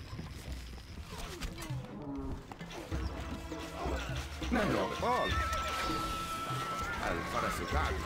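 A horse neighs in the medieval strategy game Stronghold: Crusader, a rising-and-falling whinny partway through amid game sounds and a voice speaking over it.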